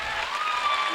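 A school audience at a film festival event applauds, a steady wash of clapping from many hands, fairly far off and continuous without any voices over it.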